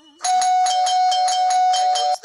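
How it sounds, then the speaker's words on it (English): An electric bell rings in the Scary Teacher video game, a loud continuous metallic ring with rapid pulsing strokes lasting about two seconds, close and alone. "That stupid bell again."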